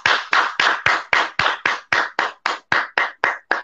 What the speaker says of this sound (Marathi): काकांसाठी जोरदार टाळ्या इथे